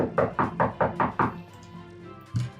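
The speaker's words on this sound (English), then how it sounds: "And you hear a knock at the door." A quick series of five firm knocks on a door, evenly spaced and fairly close, then a pause, a faint rustle and one more dull thump.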